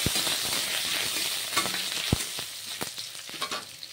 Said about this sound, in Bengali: আদা দিয়ে ভালো করে একটু ভেজে নেব।